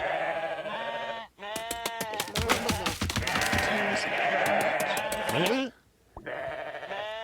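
Sheep in the video game WorldBox bleat in a series of loud, wavering calls, several overlapping cries with brief pauses between them, close and clear.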